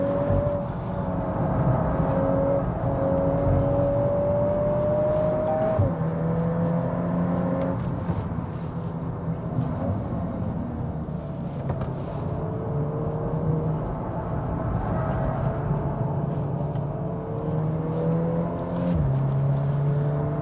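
A 2022 VW Golf R accelerating hard on the Dubai Autodrome track: a loud engine note climbs steadily through the gears, dropping at each shift, with a constant road rumble heard from inside the car.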